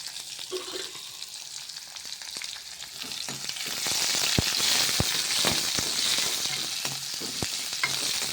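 Small onions and curry leaves sauté in a pan, giving a steady, loud sizzle with scattered stirring scrapes and sharp clicks of a utensil against the pan; no talking.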